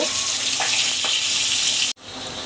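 A large fish frying in a pan on a home stove, a loud, dense, continuous sizzle and spatter close up, briefly cut off near the end before resuming.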